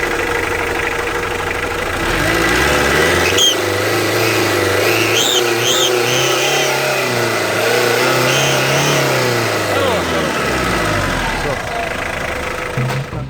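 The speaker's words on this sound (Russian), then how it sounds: "И подсвистывается лянза на перегазовочке. И смотрим, слушаем, как свистит" A Hyundai H200 engine revs up and settles back with a thin whistle from a leaking gasket between the EGR and the exhaust manifold, close and loud, with someone talking over part of it.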